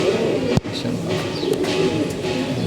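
Domestic pigeons, including a brown-necked bird, cooing nearby in a pigeon keeper's loft, soft repeated low coos over steady background noise, with one sharp bump partway through.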